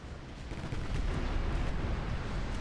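Naval gunfire from warship main batteries and 7-inch guns in a naval battle video game rumbles in a dense, continuous roar of booming shots, heavy and sustained without talk.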